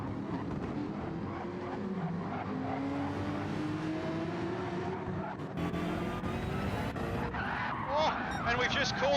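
Racing game GT3 race car spinning on grass, its rear tires squealing and skidding over a steady, loud engine drone, with commentators talking throughout.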